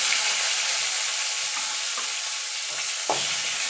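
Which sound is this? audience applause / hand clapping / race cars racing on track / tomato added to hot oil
tomato added to hot oil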